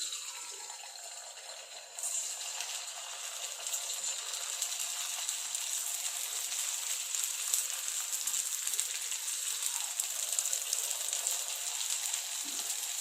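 Rice flour snacks deep-fry in hot oil, a dense continuous sizzle heard close and steady, starting softer and jumping louder after a couple of seconds once the batter drops in, with faint bubbling throughout.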